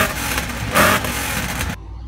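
A remapped Citroen C1 engine revs up in a short blip and settles back to a steady hum nearby, then cuts off abruptly to near silence.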